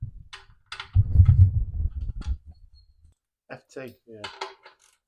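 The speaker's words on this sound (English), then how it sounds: "we fitted a new copper washer to the sump plug, and now we're going to refit it" Sharp metallic clinks and scrapes of a wrench refitting a sump plug with a new copper washer on a 1.3 Vauxhall Nova, close by, with someone speaking briefly between the clanks.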